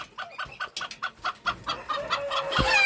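Bantam chicken clucking in a backyard flock, a rapid series of short sharp clucks, close and clear, ending in a louder squawk.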